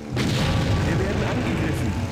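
A deep boom from a warship's cannon in Empire Earth, with a rumbling roar that holds loud for a couple of seconds, a voice talking over it.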